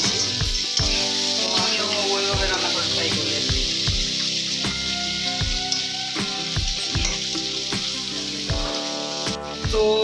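Pointed gourd (potol) pieces fry in oil in a pan with a steady, loud, close sizzle, broken up by repeated clacks of a utensil stirring and scraping.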